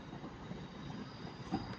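A Northern Class 323 electric train pulls out of Manchester Piccadilly station, a continuous mid-distance rumble of wheels on rails with a faint squeal, no voices.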